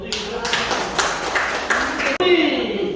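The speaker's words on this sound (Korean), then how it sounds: "박수 부탁드립니다" A crowd applauds at a group exhibition's invited opening in a gallery art centre, dense clapping filling the room for about two seconds with voices mixed in, then breaking off abruptly.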